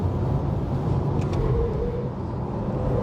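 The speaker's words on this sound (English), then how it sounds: "You can hear the tires working up front." Road noise from a Porsche Taycan 4 Cross Turismo pushed to the grip limit on a track hot lap, a steady loud rumble of tires and motion with a faint high squeal briefly rising midway, no talking.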